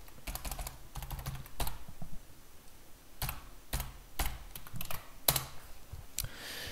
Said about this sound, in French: on va être invité à taper le mot de passe